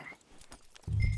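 Hooves of a horse walking in the Red Dead Redemption 2 video game, a few soft clip-clop steps at moderate distance, followed by a louder low rumble at the end.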